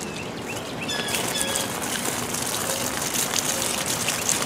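A steady hissing gush of water sprays onto an okra plant in an urban garden to wash off ants, while birds chirp faintly in the background.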